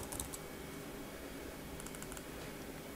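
Typing on a computer keyboard while building puzzles in PowerPoint, a steady stream of soft, quiet keystrokes with a couple of brief quicker bursts, with no talking.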